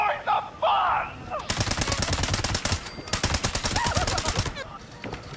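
Rapid automatic gunfire in the video game Fallout 76: loud, close, sustained bursts of shots lasting about three seconds, broken by one brief pause, with a voice talking just before and faint sounds after.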